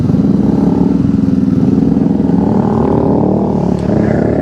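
A Honda ADV160 scooter engine hums loud and close with a steady pulsing idle-to-pull-away drone as it rides off, no talking.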